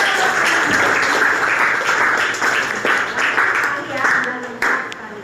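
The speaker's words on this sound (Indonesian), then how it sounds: "Ya, tepuk tangan." A classroom audience claps at the close of a school geography lesson, scattered and uneven hand claps with some voices mixed in, fairly close and fading toward the end.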